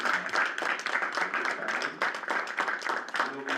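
Round of applause for students at a university student government meeting, a smaller group clapping briskly with individual claps audible, near and fairly loud, brief murmurs underneath.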